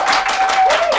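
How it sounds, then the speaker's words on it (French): Studio audience applause on a French-language television show, a brief loud burst of clapping lasting about a second, close and dense. "applaudissez pour vous-même le public."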